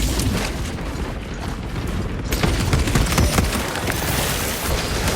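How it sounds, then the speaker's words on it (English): A frag grenade in Warhammer 40000: Space Marine 2 sets off a dense, roaring blast that swells partway through and stays loud over continuous battle noise. "Frag grenade deployed."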